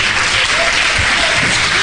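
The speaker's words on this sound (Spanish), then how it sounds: "Yo quiero que le den un aplauso precioso al Señor" A church congregation bursts into loud, continuous applause for the Lord, a thick roar of clapping that stays dense and unbroken throughout.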